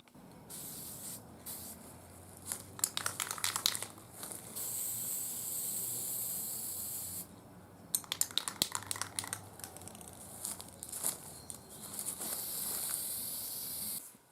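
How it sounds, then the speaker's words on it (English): Bursts of hissing spray from a paint gun, several long sprays separated by short pauses with light clicks and clatter, close and fairly loud. "actually spray the paint on with my gun"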